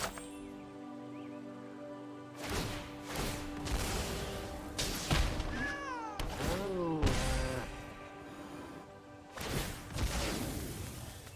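Cat meows inside the MTG Arena card game, several short yowling cries over a steady music bed, mixed with thuds and crashing game effects, moderately loud.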